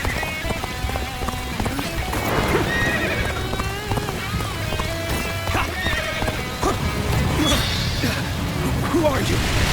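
Horse hooves clip-clop at a gallop alongside repeated neighs and whinnies in the video game Dynasty Warriors: Origins, with battle noise and voices talking over much of it.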